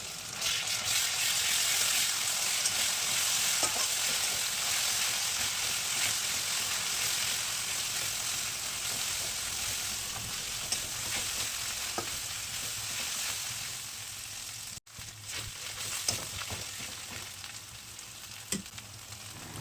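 Chopped onion with ginger-garlic paste sizzling steadily in a pan, a broad constant frying hiss with occasional stirring clicks, no voices.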